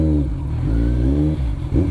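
A Royal Enfield Himalayan motorcycle engine revs in short, throaty surges over a steady idle, close and fairly loud, with clear rhythmic pulsing and no voices.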